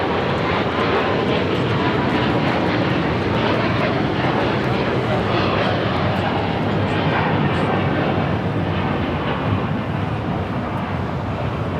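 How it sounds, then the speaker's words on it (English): EVA Air's Boeing 777-300ER in Star Alliance livery roars on its takeoff from LAX, a loud, sustained broadband jet rumble with wind buffeting on the microphone. "That was EVA Air Flight 5 taking off to Taipei on the 777-300ER in the Star Alliance livery"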